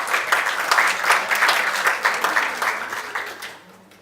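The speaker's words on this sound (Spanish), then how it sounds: "La recibimos con un aplauso, así como para retomar." An audience at a university presentation applauds warmly, dense clapping holding steady for a few seconds before thinning and fading out.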